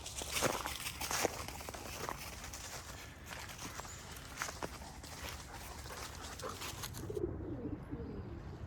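White homing pigeons at a loft make soft, low cooing amid rustling, scratching and shuffling movement close by, a busy, continuous stretch with no talking.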